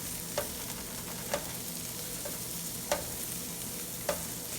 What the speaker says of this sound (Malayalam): ഈ പൊടികളെല്ലാം ഇനി നന്നായിട്ടൊന്ന് ഈ ഉള്ളിയുമായിട്ടൊന്ന് മൂപ്പിച്ചെടുക്കണം